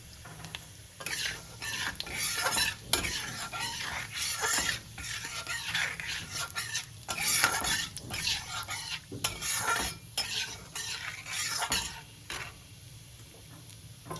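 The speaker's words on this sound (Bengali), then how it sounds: "তেলের মধ্যে সাদা জিরে, শুকনো লঙ্কা ফোড়ন দিয়ে" Cumin seeds and dried red chillies are tempered in hot oil for a Bengali radish dish: a busy sizzle and crackle with repeated scraping and clinking of a spatula against the pan.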